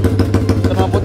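Motorcycle with an original engine, worn piston rings and an open exhaust, running loud and close with a rough, pulsing idle.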